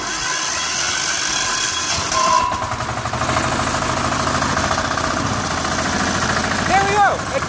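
Small mechanical bull engine with its throttle set, turning over roughly and struggling before it catches, then running unevenly and loud near the mic with continuous mechanical rumble and knocking; a voice talks over it.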